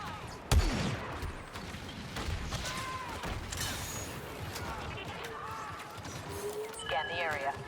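Blaster gunfire during the Battle of Endor in Star Wars Battlefront II, with a sharp loud shot near the start followed by scattered zaps, mechanical clatter and electronic whines over a constant busy battle din, and voices talking underneath.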